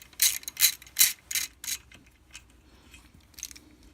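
A hand ratchet clicks in quick bursts while loosening the header bolts on a KM100 motorcycle, several sharp close ratcheting strokes followed by fainter, sparser clicks.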